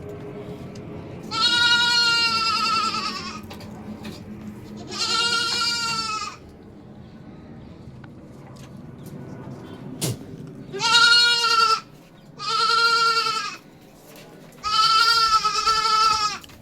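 Four male goat kids for sale bleat loudly and close in five long, wavering cries separated by quiet stretches of faint background hum.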